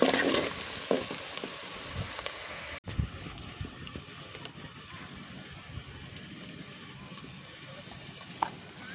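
Onion frying in oil over a wood-fired chulha for village-style mutton, giving a steady close sizzle with light crackles and one sharp knock partway through.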